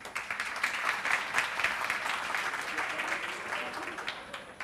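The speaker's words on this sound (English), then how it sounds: "So please give them a round of applause." An audience applauds at a startup demo day in Amman, a steady wash of clapping from a crowd lasting several seconds at moderate distance.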